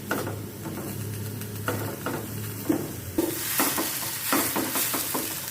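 Onion sautéing in a pan, a steady close sizzle broken by repeated scraping stirs of a spatula, growing busier and louder in the second half.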